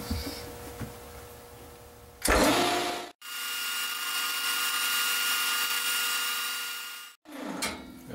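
A lathe runs with a cutter held in its jaws, a loud steady whirring hum with a harsh scraping edge as it cuts a small part, starting and stopping abruptly, with brief handling noises before and after.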